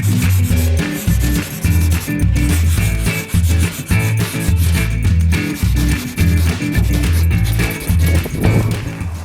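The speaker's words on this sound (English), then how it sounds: "I've sanded it some to remove that crispness, that new look" Sandpaper rubbing back and forth over a new wooden piece to scuff off its crisp fresh finish, a steady, close, continuous scratchy sanding with no talking.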